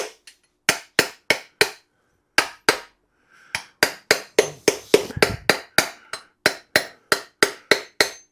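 Repeated sharp tapping of a plastic screwdriver against a connecting rod end to drive a piston out of a 1986 Ford F150 engine block, loud and close, in quick bursts of evenly spaced knocks with a brief pause and a scrape partway.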